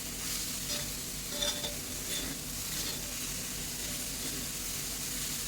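Dill greens with salt and crushed peanuts are stir-fried in a pan, producing a steady moderate sizzle with soft scraping and stirring textures throughout, no voices.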